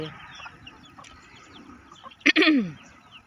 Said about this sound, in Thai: ไก่น่ารัก ทุกตัว